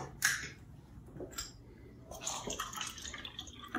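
Bottled water, including Evian, is poured into containers in a series of splashing, trickling pours with short pauses between them, close by and fairly soft.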